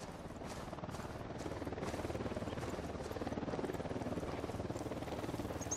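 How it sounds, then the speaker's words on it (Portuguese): A patrolling helicopter in the video game Ghost Recon Wildlands thrums with a steady rotor chop that grows slightly louder, heard at a distance with no voices over it. "Um helicóptero da unidade em patrulha."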